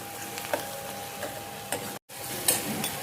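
Onion with turmeric, salt and asafoetida is sautéed in a pan, a steady soft sizzle with light stirring scrapes and a brief break in the middle.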